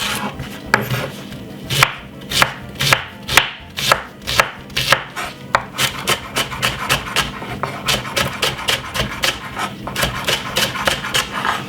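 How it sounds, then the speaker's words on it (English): Knife rapidly chopping garlic and spring onion on a cutting board for a Jamaican hot chilli chicken, crisp close strikes in quick steady bursts that speed into a fast continuous rhythm. "2 cups of garlic, finely cut up."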